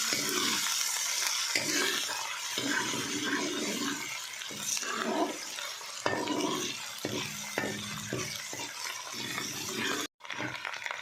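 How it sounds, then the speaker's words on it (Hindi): Ginger garlic paste frying with onions in a pan, a steady sizzle broken by repeated spoon scrapes and stirring clatter close up. "अदरक लहसुन को 2 मिनट के लिए फ्राई कर लिया।"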